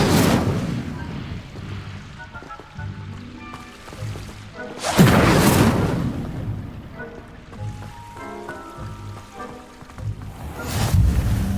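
A fire spell cast in Hogwarts Legacy bursts out as a loud whooshing roar of flame, with several shorter flares among game sounds and no talk.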